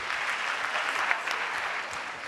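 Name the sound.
applause for student Cadrix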